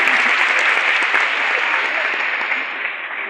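Audience applause at a French-language citizenship event, a dense sustained roar of clapping from a large crowd, loud and close, fading slightly toward the end.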